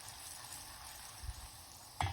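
Ginger and black pepper frying in hot ghee for ven pongal, a steady close sizzle with small spatters and a clink of a spoon near the end.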